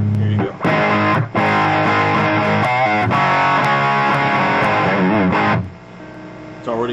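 An electric guitar played through an amp with light overdrive, sustained chords and a few bent notes ringing loudly, then fading out near the end.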